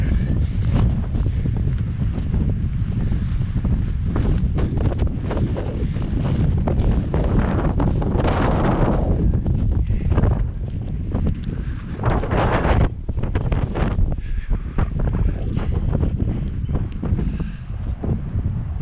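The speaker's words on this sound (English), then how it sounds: "Here comes the wind." Strong wind gusting in the Outeniqua mountains: a steady, loud roar of buffeting air against the microphone, swelling in gusts, with no talk.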